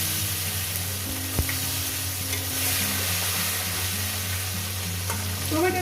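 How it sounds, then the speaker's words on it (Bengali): Tomato fries and is stirred in a pan with dried red chillies, a steady close sizzle with spatula scrapes and an occasional sharp knock against the pan. No voices. "টমেটোটাকে দিয়ে কয়েক সেকেন্ড একটু ভেজে নেব।"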